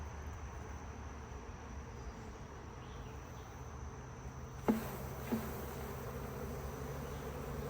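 Steady honeybee buzzing drones continuously at a low level, with a couple of brief soft knocks partway through, during beekeeping work with new queens.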